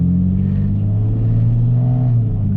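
Car with a new catback exhaust and muffler holding a steady, loud, low engine rev, close and sustained with no talk.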